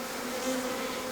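Bees buzzing during the capture of a swarm into a nuc box, a steady close drone with a wavering pitch and no voices over it.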